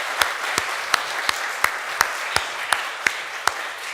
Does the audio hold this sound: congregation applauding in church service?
yes